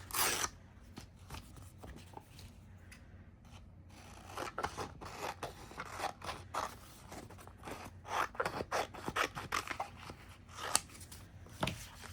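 Sticker paper is peeled and torn by hand in a quiet indoor space, giving a string of soft, irregular ripping and rustling bursts, some short and some drawn out, close to the microphone, with no talking.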